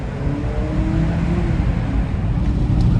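A 2024 Honda CR-V Hybrid's engine sound piped into the cabin gives a steady, close, low drone that holds an even level throughout, with no talking over it.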